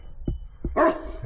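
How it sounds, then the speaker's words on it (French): A patou, a livestock guardian dog, barks in the outdoors: two short deep woofs followed by a longer, louder bark, moderately distant. "C'est un patou."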